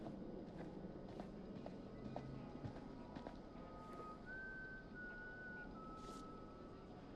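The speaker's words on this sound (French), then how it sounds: "Il y en a qui sifflent, c'est insupportable." A thin whistled tone drifts through the ambience of the House of Ashes video game, a faint sustained pitch under steady background noise and soft footstep-like thumps.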